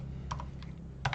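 Several short bursts of keystrokes on a computer keyboard while coding a Python program in an office setting, a quick pair of taps, a lone tap, then another pair, close and fairly quiet over a low steady hum.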